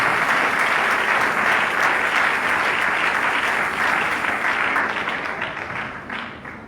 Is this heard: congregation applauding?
yes